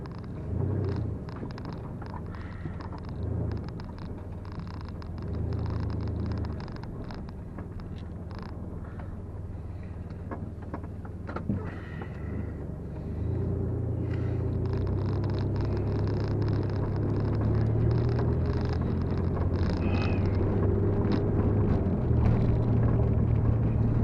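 A car rolls along a road with a steady low engine drone and tire rumble from inside the cabin, the engine note rising and holding louder about halfway through.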